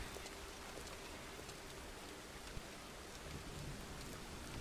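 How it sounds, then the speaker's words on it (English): Steady, even rain in the video game Farmer's Dynasty hissing without a break, soft and close, with one faint tap partway through and nobody speaking. "It's April. It's raining."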